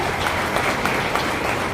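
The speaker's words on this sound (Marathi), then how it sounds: "सर्वांनी टाळ्या वाजवून त्यांचं स्वागत करावं." An audience claps to welcome a former minister arriving at an event, a dense, steady wash of applause with no break across the short stretch.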